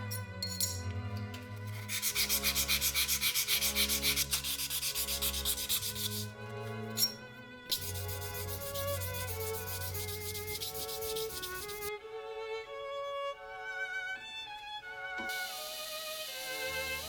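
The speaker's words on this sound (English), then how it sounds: "I sanded the rest to make it look even, but that doesn't make it flat" A Stanley No. 18 block plane blade is sanded by hand, steady rhythmic rubbing strokes in long runs separated by short pauses, close and clear with no talking.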